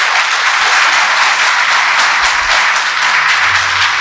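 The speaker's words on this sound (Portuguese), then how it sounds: "Eles é que merecem palmas, de verdade" An audience at a book launch event applauds, a dense, continuous and loud wash of many hands clapping that fills the whole stretch without pause.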